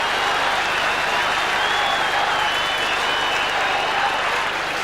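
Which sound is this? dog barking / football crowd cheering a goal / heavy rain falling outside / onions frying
football crowd cheering a goal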